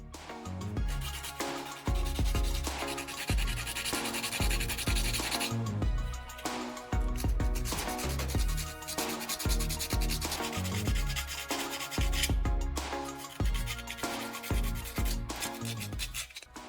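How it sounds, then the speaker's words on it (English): Sandpaper wetted with WD-40 is rubbed against a metal battery terminal, giving a close, raspy scrubbing sound. The strokes come in a steady back-and-forth rhythm, continuous and alone, with no talking over it. "Rub the positive end of the battery gently until the metal looks brighter."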